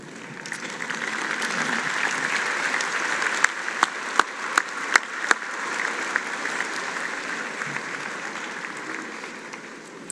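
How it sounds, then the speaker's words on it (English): Graduating undergraduates at an afternoon fall commencement ceremony applaud the seated faculty, a steady dense wash of clapping from a large crowd lasting throughout, with a few sharper nearby claps standing out midway. "join me in applauding them and thanking them"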